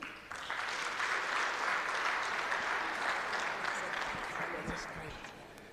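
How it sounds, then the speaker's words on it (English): A foundation audience applauds after a trustee's address, a broad swell of clapping that rises quickly and fades gradually near the end, with faint voices mixed in. "Let's give the trustee another round of applause"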